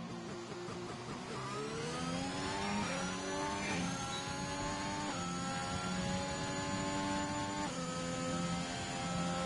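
Alpine F1 car engine in the F1 2021 video game on the Jeddah circuit in Saudi Arabia, a high-pitched revving whine rising through gears with repeated upshifts, continuous and fairly loud.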